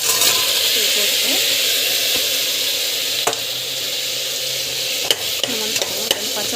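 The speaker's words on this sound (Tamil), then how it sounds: "போட்டு நல்லா வந்து வதக்கணும்." Tomato, curry leaves and salt sauté in a hot pan, giving a steady, close sizzle broken by occasional scrapes and taps of a stirring spoon.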